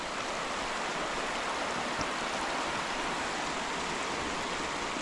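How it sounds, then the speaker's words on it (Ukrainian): Mountain river stream rushing steadily nearby, a continuous broad wash of flowing water with no voices. "Така в нас гірська річка."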